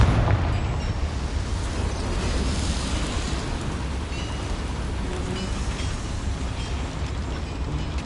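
A Confringo fire-blast spell erupts in Hogwarts Legacy inside a small mine, a loud sustained rumbling roar with crackling debris that fills the whole stretch without easing.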